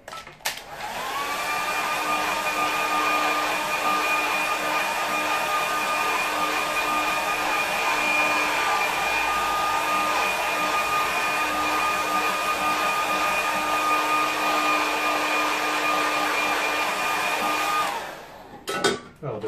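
A hair dryer blows steadily on watercolour paper for a painting, a loud continuous whine with a constant motor hum from start to finish, then clicks off near the end.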